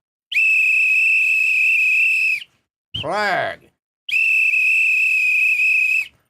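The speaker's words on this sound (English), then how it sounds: "Let me go grab the doggone whistle." Referee-style whistle blown during a live NFL football game, two long steady shrill blasts separated by a short pause in which a voice speaks briefly, loud and close.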